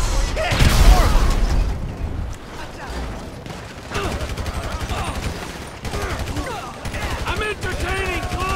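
Grenade launcher fire in Grand Theft Auto V during a shop shootout, with heavy booms and bursts mixed into chaotic gunfire, loud and near, under overlapping shouted voices.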